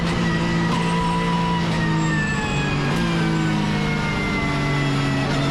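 Porsche race car at full throttle on the Zandvoort circuit during an overtake, a loud, continuous engine drone with steady harmonics and slight pitch shifts as it accelerates, no talk.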